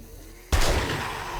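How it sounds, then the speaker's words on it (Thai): An improvised shotgun in the survival game 7 Days to Die fires a single sudden loud blast that rings out with a sustained noisy tail, preceded by a brief quiet stretch. "ยิงปืนละยิงปืนละ"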